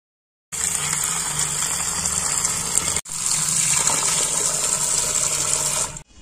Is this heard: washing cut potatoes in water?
yes